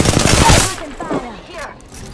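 Rapid automatic gunfire from the battle royale video game Apex Legends bursts loudly in the opening second, then gives way to quieter in-game effects and brief voice lines.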